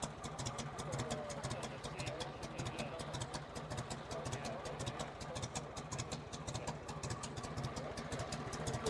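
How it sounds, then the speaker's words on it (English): A 1924 Mercedes 2-liter Targa Florio race car engine runs at a steady, lumpy idle outdoors at a car show. The rapid, regular firing pulses stay close and even throughout, with no clear talk over it. "Mercedes 2-liter Targa Florio race car running here."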